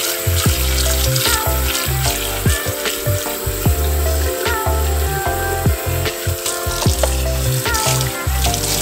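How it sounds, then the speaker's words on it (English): Water splashes and sloshes while a Breville Precision Brewer carafe is rinsed out at a sink, with irregular clattering knocks and running-water noise throughout, fairly loud and close, no talk. "So emptying it, and then we'll just rinse it out."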